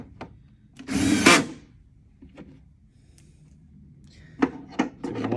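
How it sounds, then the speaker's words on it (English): A power drill drives a pan head screw through a hinge into the pre-drilled face frame of an RTA wall cabinet in a short whirring burst, followed by scattered light knocks and clicks of handling. "We're going to take our hinge, take our drill, go through the hinge into the pre-drill hole of the face frame."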